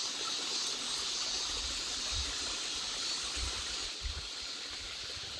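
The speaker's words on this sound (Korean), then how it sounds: "물소리가 좋네요" A stream flows through a summer forest, a steady, moderately loud rushing hiss of water with a few low rumbling swells and no voices.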